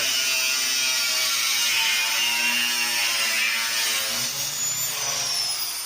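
A power tool cuts the corners of a plastic barrel for a DIY tire dunk tank, a steady high, harsh grinding whine that runs unbroken and loud throughout, close by with no talk.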